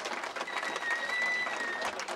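Crowd applauding at an outdoor inauguration of new paving in a rural community, steady dense clapping at moderate distance, fairly faint, with a whistle-like tone briefly above it.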